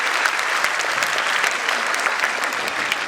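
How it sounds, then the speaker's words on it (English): Steady, dense applause from a large audience at a school annual day, after a choir performance, loud and continuous throughout with no pauses. "Please give a huge round of applause for this melodious performance by our choir group."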